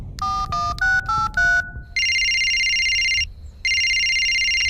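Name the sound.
telephone ringing in a cartoon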